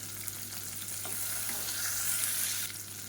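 Onions and broken green chilies frying in hot oil, a continuous close sizzle with stirring scrapes that swells slightly midway before easing off.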